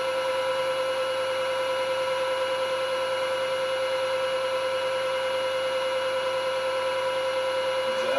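A Peter Pugger clay processing machine runs with its vacuum on, giving a loud, steady electric motor hum with strong tonal whine, constant for the whole stretch and alone.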